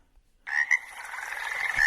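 Frogs croaking at night by a stream, a steady rasping chorus that starts abruptly and carries on, close and fairly loud, with no talk.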